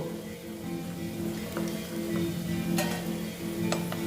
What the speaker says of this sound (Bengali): এইগুলো আমার মোটামুটি ভাজা হয়ে গেছে এইবার আমি এগুলোকে তুলে নেব